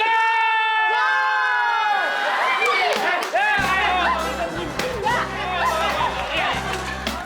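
A crowd of adults and children shouts and cheers at a football goal, the loud, dense roar rising and overlapping with whoops and some clapping.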